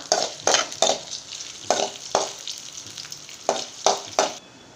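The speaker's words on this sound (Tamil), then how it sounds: "இது நல்லா வறுத்து எடுத்துக்கலாம்" Urad dal and dried red chillies fry in a pan for a pirandai chutney, sizzling steadily under loud, repeated stirring scrapes that come in rhythmic bursts about every half second.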